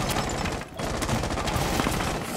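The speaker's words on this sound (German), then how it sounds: "Es kommt von unten der Schuss." Rapid bursts of gunfire from below crackle continuously in the video game Rainbow Six Siege, dense and close, like a fusillade of shots with only a brief lull.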